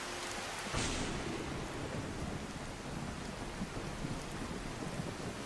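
Steady rain falling in the Skyrim video game, a dense even hiss of downpour with a soft low rumble, continuous and fairly quiet throughout with no voices.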